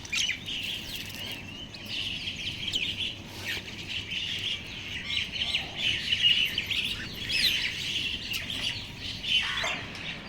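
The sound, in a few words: crows calling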